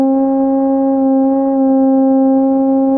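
Moog Theremini theremin holding a steady, pure sustained C, close and loud with a smooth unwavering tone and no talking.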